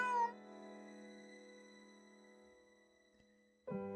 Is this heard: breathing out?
no